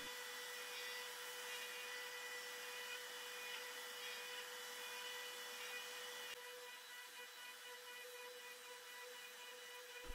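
A router milling a wooden dowel blank, with dust extraction running, makes a quiet, steady whine and whoosh that shifts and softens partway through, then carries on at a lower level.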